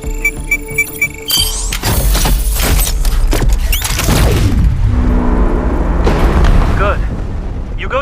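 A launcher fires in the sci-fi MMORPG RF Online Next, a loud detonation erupting into a long rumbling boom with crackling debris and metallic scrapes, followed by a second swell of rumble.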